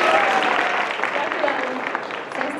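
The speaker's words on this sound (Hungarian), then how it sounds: "Hatalmas tapsot neki." An audience applauds at an anime convention awards announcement, a sustained dense wash of clapping heard from within the crowd that fades slightly over a few seconds.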